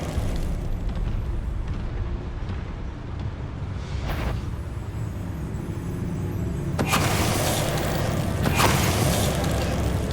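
Confringo blasting spell explosions in the Hogwarts Legacy video game, a rumbling roar with sharp bursts of impact partway through and near the end, loud and close, with no talk.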